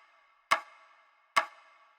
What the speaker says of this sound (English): at the beginning it was only the snare sample. Sounds like this.